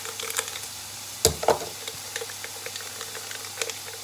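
Steak frying in a pan beside onions and mushrooms, giving a faint, steady sizzle with a few sharp clatters of utensils against the pan, heard close up and without talk.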